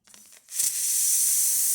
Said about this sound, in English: opening the steam wand